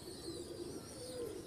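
Several pigeons, kept by a breeder, coo in soft low rolling calls that repeat steadily, close by and moderately loud, over a constant hiss of background noise; no one speaks.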